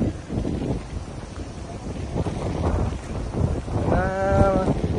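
Wind gusts across an open mud crab and grouper farm pond, blowing steadily with rough microphone buffeting, and a brief bleating animal call comes near the end.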